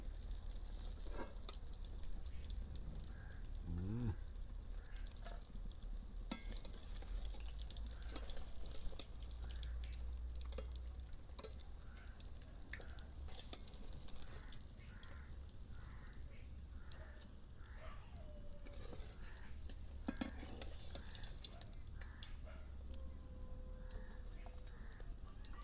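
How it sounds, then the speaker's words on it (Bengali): Pangas fish frying in a pan on a home stove gives a faint, steady sizzle, with occasional drips and distant bird and crow calls in the background. "একদিকে মাছ ভাজা চলছে"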